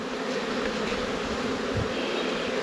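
Honeybees buzz densely as they are shaken into a nuc hive, a loud, steady swarm drone close by with no voices.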